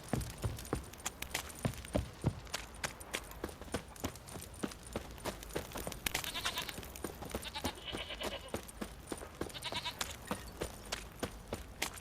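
Sheep bleat in The Witcher 3 amid game ambience, with steady rhythmic hoof clip-clop running through and a few louder bleating bursts standing out.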